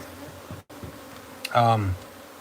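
Honey bees from a wild hive being moved into a new box: one bee buzzes loudly and close for about half a second, droning down in pitch over a faint, steady background hum.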